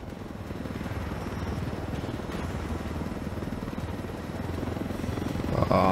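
Helicopter in the video game Ghost Recon Wildlands, a steady close rotor chop and engine drone running loud and unbroken throughout, building slightly toward the end.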